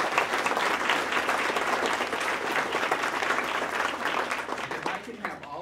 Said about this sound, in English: let's give the mayors a round of applause